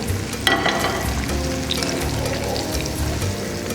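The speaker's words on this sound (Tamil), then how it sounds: "இந்த உருளைக்கிழங்கு கிறிஸ்பாக பொன்னிறமாக பொரிஞ்சு வந்துடுச்சு" Potato pieces frying crisp and golden in oil, a loud, dense crackling sizzle with a few spatters, steady throughout with no voices.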